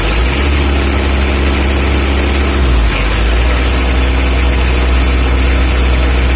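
Toyota Avanza engine running steadily and loudly up close, a constant heavy drone with a slight shift in pitch midway, no voices.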